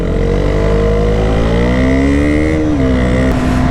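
A KTM Duke 125 motorcycle accelerates hard, its engine note climbing steadily in pitch through the revs, loud and close throughout with no talking.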